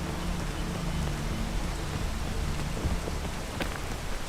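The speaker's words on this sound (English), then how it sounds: "Rain, stop it." Steady rain falls in a climbing video game, an even, close hiss of drops with a low rumble underneath, continuous throughout.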